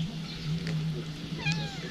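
A cat meows once in Göreme, Cappadocia, Turkey, a short rising then falling cry, over a steady low hum and faint background noise.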